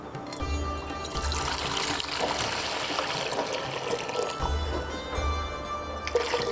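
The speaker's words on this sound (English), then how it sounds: "Okay, so I'll add some water." About 1.5 liters of water poured into a cooking pot for Kabuli pulao, a continuous close splashing trickle lasting several seconds with no talk.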